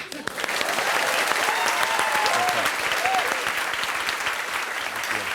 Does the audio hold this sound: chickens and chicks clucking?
no